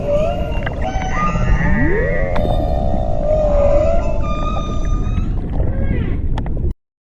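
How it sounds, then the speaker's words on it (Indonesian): Humpback whale song fills the clip with loud, continuous underwater moans and long rising, wavering tones that sweep upward and hold before cutting off abruptly near the end. "paus bungkuk, yang dengan lagu yang indah mengisi samudra dengan harmoni dan misteri"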